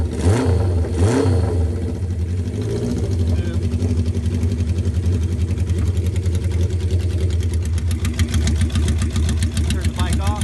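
A Honda CB750 motorcycle engine cranks and catches, then settles into a steady, rapid idle with a loud, close, continuous rumble.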